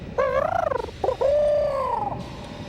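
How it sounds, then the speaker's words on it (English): A cartoon bird squawks in Sonic SatAM, giving two loud, wavering calls close by, with a brief break between them and no talk. "The bird catches up to Uncle Chuck."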